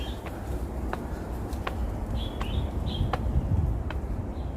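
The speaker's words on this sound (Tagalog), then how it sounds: "kumakanta yung mga ibon." Birds chirp and call outdoors, faint short tweets scattered over a steady background hum, heard near a high stairway with an open view of the sky.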